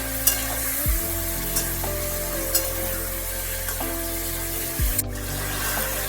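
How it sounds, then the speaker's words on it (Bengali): Chicken in a yogurt and ground spice paste sizzles in a pan as it is stirred, giving a constant hiss with periodic scrapes and clinks, alongside a steady droning hum. "যার জন্য এখন একটু নাড়াচাড়া করিয়ে নিচ্ছি"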